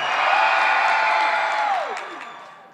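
Crowd at an outdoor civic-day concert in Incheon screams and cheers, one loud sustained roar with a few high whoops that fades out toward the end.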